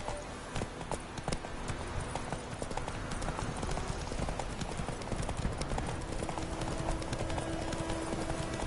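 Horse galloping in a video game, with steady clip-clop hoofbeats running continuously at a fairly constant loudness beneath a dense game soundscape, with a faint whinny possible.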